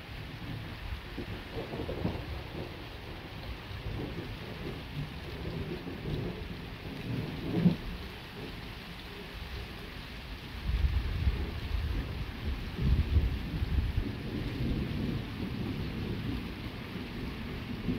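Steady rain pours throughout a strong nighttime electrical thunderstorm with wind, while low rumbles of thunder roll in and out, growing heavier and deeper toward the end.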